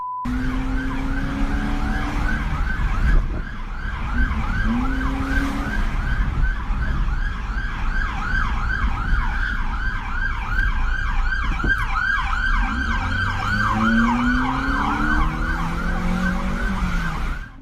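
A police siren wails on and on through a car chase, its rapid yelping sweep repeating loud and close over road and engine noise, with a voice briefly heard over it.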